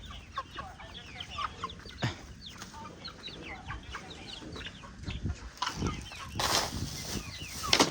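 Chickens cluck and murmur in a busy farmyard, several birds overlapping at moderate distance, with occasional rustling and a brief squawk.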